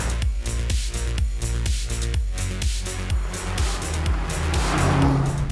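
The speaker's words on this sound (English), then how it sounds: "I can hear the rumble through the cabin" Mercedes-AMG C 63 S E Performance heard from inside the cabin while driving, a loud, steady low engine rumble with shifting pitch that swells toward the end.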